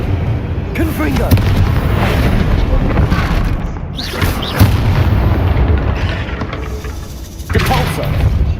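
A Confringo blasting spell explodes in the Hogwarts Legacy video game, with dense, loud booming blasts and rumble running throughout over busy game sounds and brief voice.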